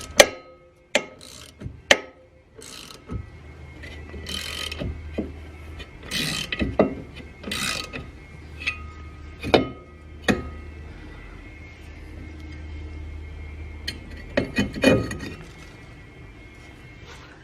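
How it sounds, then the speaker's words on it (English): A bolt is spun by hand into a rear brake rotor on a Nissan 240SX to force it off, giving scattered sharp metallic clicks and ratcheting ticks over a low mechanical hum, close and fairly loud. "I'm going to put it in one of these little holes right here in the rotor and just spin it in until it pops right out."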